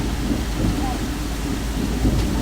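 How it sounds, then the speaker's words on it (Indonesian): Heavy rain pouring down with a deep, steady roar of thunder and downpour, continuous and loud throughout with no voices heard. "Kalau hujan, deres banget."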